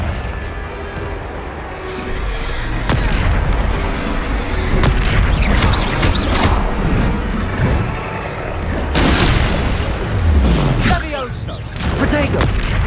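Confringo spell blasts in Hogwarts Legacy, booming explosions and crackling bursts over a busy battle din, loud and close, with voices calling out at points.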